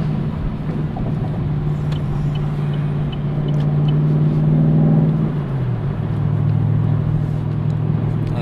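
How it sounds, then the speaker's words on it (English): Camaro SS with an MRT cat-back exhaust cruising on the highway at about 70 mph, a steady low exhaust drone blended evenly with constant tire roar, the pitch dipping slightly midway. "The exhaust noise is pretty much even with the tire noise."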